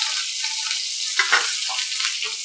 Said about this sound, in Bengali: এবার দিচ্ছি বেগুন, বেগুন অনেকটা তেল টেনেছে।